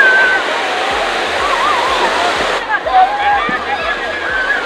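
Water gushing down heavily at a Chhath puja bathing spot in Juhu, Mumbai, a loud steady roar of falling, splashing water close by, with a faint rhythmic beat and voices in the background.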